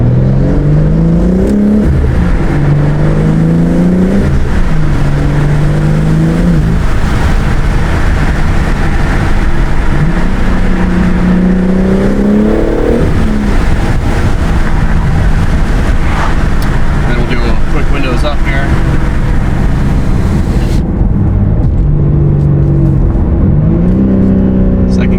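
A BMW G80 M3 with front mount intakes accelerating in second gear, heard from inside with the driver's window open: a loud, continuous engine drone with repeated rising rev sweeps and shift dips, then a muffled tail.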